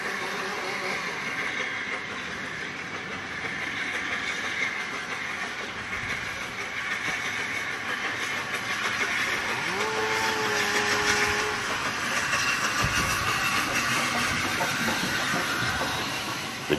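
A British Railways standard class 8P steam locomotive, 71000 Duke of Gloucester, hauls a special train, its steady rumble and hiss filling the clip, with a brief whistle partway through.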